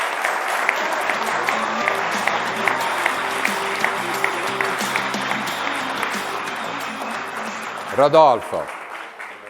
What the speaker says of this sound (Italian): facciamo un applauso a persone come